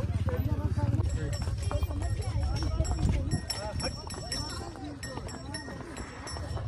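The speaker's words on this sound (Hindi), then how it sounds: "घोड़े की सवारी सीखते हुए" Horse hooves clip-clop during a riding lesson at Doodhpathri in Kashmir, with a steady close footfall rhythm under constant chatter and voices throughout.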